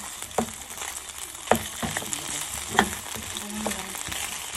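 Garlic frying in a pan for adobo, a steady close sizzle broken by several sharp knocks and scrapes of a utensil against the pan, with no talk.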